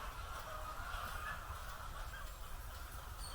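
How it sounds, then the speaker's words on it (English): Crowds of chickens cluck and murmur inside a long chicken farm house in the Dominican countryside, a constant, distant-sounding wash of fowl noise with no single bird standing out. "I found this chicken farm here"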